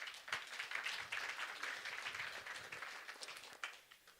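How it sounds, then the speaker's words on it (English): Church congregation applauds during a Unity service, a steady wash of clapping from a crowd that holds fairly even for about four seconds, with a brief louder burst near the end. "Round of applause."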